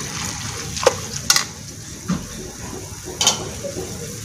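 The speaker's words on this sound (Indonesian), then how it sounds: "Kita aduk." Wet noodles with pigeon and sweet soy sauce are stirred in a frying pan, with a steady sizzle broken by a few sharp spatula scrapes and clanks against the pan, close and clear.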